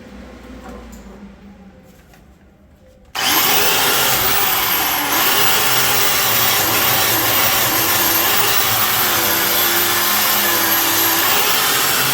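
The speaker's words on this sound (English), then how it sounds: "I'm gonna grab this wire wheel and run across the top of it" A wire wheel on a power tool grinds across the metal of a Cuda chassis fitted with trailing arm braces. After about three quiet seconds, a loud, steady, close-up whirring scrape kicks in and runs without a break.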